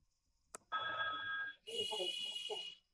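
A Grandstream GRP260X IP phone ringtone plays in two bursts of bright, chiming tones, separated by a short pause, preceded by a single button click.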